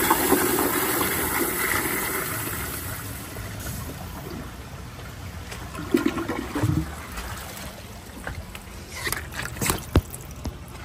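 A new-old-stock 1991 Kohler Kingston toilet with a water guard flushes a washcloth, a steady rushing, gurgling flow of water lasting several seconds, close by, with a few sharper splashes and clunks toward the end and no talk.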